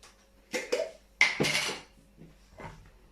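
Pickled red cabbage is spooned into a glass jar, giving a few close clinks and scrapes of a spoon against the jar in separate bursts, with quiet gaps between them.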